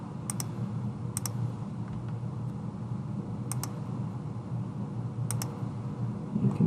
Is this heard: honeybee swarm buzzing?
no